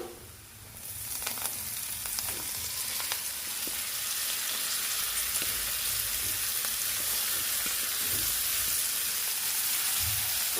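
Chopped coriander and fenugreek leaves fry in oil in a pan over a low gas flame, giving a loud, continuous sizzle that holds steady, with faint stirring scrapes and no talking.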